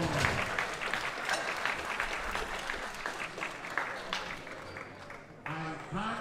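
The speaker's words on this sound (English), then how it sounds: "Give him a big round of applause." A crowd at the 2021 World Classic Powerlifting Championships applauds a junior men's 93 kg gold medalist from the U.S. Virgin Islands with dense, sustained clapping, and a voice is heard over it toward the end.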